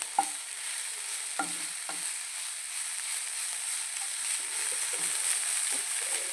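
Drumstick leaf stir-fry being stirred in a pan: a few scraping, clacking spatula strokes over a faint, even sizzle, heard close with no speech.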